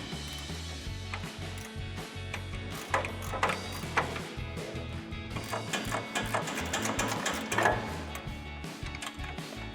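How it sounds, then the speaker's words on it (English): A 14mm wrench works loose the suspension bolts on a Toyota Tacoma during a lift install, giving off rapid, close mechanical clicking and ticking in an uneven rhythm, with no talking. "Then we're going to take a 14mm wrench and loosen these 3 bolts up here."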